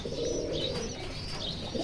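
Pigeon chicks in a rooftop loft cooing, a soft continuous low burbling close by with faint chirps over a steady background hum, no talking.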